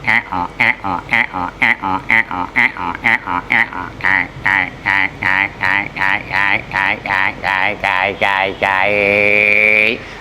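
A voice rhythmically imitates the croaking of a frog at a railway station, about twenty short throaty pulses in a steady beat, ending in a longer drawn-out call.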